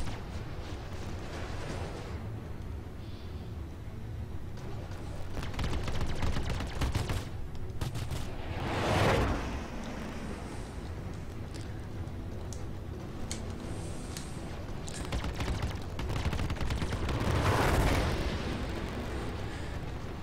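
Star Citizen Cutlass Black spaceship weapons firing in long rapid bursts over a steady engine hum, with heavy booming impacts swelling around two points and no talk.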